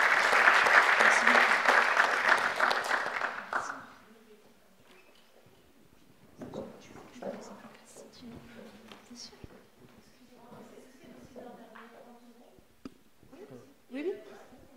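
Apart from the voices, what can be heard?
audience applause for round table speakers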